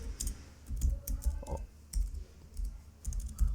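Fingers type a prompt on a computer keyboard, quick irregular clusters of close, crisp key clicks with short pauses between bursts.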